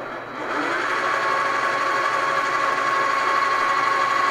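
A newly set-up machine with its tailstock and a small plastic shim, fitted after some adjusting, runs steadily with a sustained mechanical whine from its gears, rising in the first half second and then holding constant and close.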